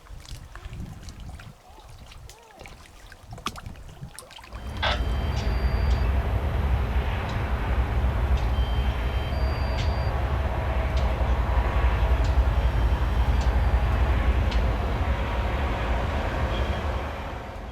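A BNSF freight train rolls past at close range; a loud, broad, steady rumble and rattle of rail cars swells in suddenly after a few quiet seconds and continues without a break, with faint metallic squeals above.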